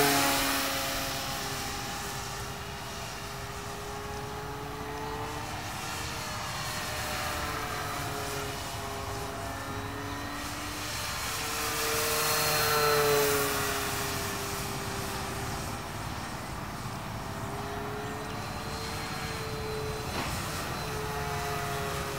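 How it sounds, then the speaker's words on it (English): Flyzone Focke-Wulf Fw 190 RC model warbird, 1130 mm span, on its maiden flight: a continuous electric motor whine rising and falling as it passes overhead, moderately distant, with no talk. "Plane flies good, man."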